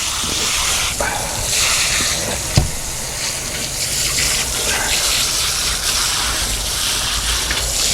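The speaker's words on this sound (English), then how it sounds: "I'll go ahead and rinse him off. Some of the slime off of him." Water runs steadily from a tap or hose over a freshly caught mudfish on a table to rinse off its slime, a continuous close rushing gush with one brief knock partway through.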